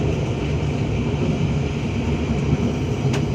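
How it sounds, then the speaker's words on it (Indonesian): The KA Singasari premium economy passenger train pulls into Gombong station with a continuous, loud, low rumble that stays even throughout. "KA Singasari sudah sampai di stasiun Gombong"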